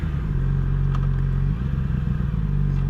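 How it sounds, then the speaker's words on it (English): A 2015 Yamaha R6 sport bike rides through a canyon, its engine a loud, close, steady drone that dips briefly mid-way before picking back up, with faint wind. "So I'm riding an R6 2015."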